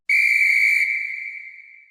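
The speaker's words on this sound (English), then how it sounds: "She blows the magic whistle," A magic whistle is blown once: a single loud, pure, piercing tone that starts abruptly and holds, then gradually fades away, with no voices.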